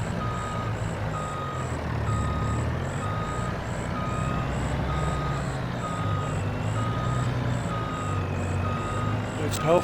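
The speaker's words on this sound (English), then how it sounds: "Which hopefully I can get my truck backed in." A truck backs in within a farming video game, its reversing alarm beeping in a steady regular rhythm over a low diesel engine drone, with a voice talking over it.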